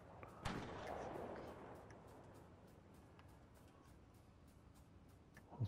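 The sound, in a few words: gunfire from players shooting each other in Fortnite video game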